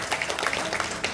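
Audience applause at a Balinese drama gong performance in Buleleng, a dense patter of many hands clapping at moderate distance, fairly soft and continuous.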